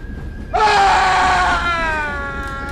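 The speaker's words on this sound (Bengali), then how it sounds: "হঠাৎ শুনতে পেলাম বগির ভেতর থেকে আর্তনাদ ভেসে আসছে।" A loud, sustained human scream of anguish for a ghost story set in a train compartment, bursting in abruptly after a quiet moment and trailing off over about two seconds.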